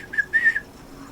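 A person whistles through pursed lips in two short, faint, wavering bursts, the tone thin and unsteady, with no talking around it.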